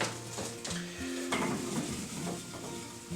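Pieces of fresh rhubarb tumble into a pie shell, a short run of soft dull thuds and light clatter with a few clinks of a bowl, heard close and fairly quiet with no talking.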